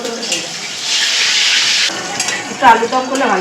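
Sliced pointed gourd (potol) frying in a pan in a home kitchen, a soft sizzle and stirring scrape, with running water and brief voices toward the end.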